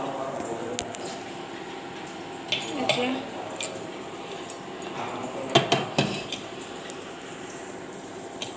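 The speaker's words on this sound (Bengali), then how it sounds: "ঢাকনা দিয়ে ঢেকে দেব।" A lid goes onto a cooking pan of okra and potato curry with a quick cluster of metallic clanks and rattles, close by, after a few lighter taps of cookware.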